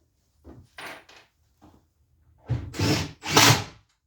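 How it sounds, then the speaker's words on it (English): A power drill drives pocket screws through a plywood side panel into a wooden face frame for a bathroom vanity, with a few short quiet whirs followed by two louder, longer bursts of driving, close by in a workshop. "I'm driving pocket screws through this outside piece of plywood up into the face frame to hold it in place"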